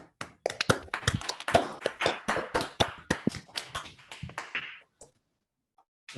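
Applause from an online audience after unmuting: several seconds of dense, overlapping clapping that tapers off and stops, leaving silence.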